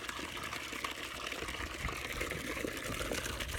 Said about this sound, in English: Okay, so here's our new water feature.